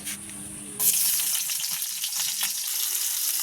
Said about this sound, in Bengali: এখন দিয়ে দেব হচ্ছে কেটে রাখা পেঁয়াজ